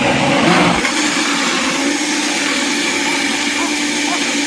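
A Vitamix high-powered blender runs at full speed, a loud, steady whirring roar that surges briefly at the start and then holds constant.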